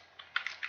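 Quick typing on a computer keyboard in MS Word, a short burst of four or five close, light key clicks in an uneven rhythm with no voices.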